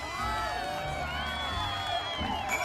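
Crowd of onlookers cheering and whooping in Final Fantasy XIV, a steady, continuous wash of voices with bright shouts rising above it, sustained at moderate loudness for the whole stretch.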